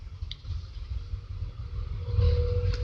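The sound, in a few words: garbage truck passing by outside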